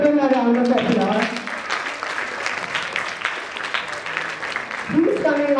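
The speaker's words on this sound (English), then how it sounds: "Please give him a round of applause." Audience applause at a World Autism Awareness Day 2023 event as a guest comes on stage, a steady crowd of clapping hands between stretches of someone talking at the start and end.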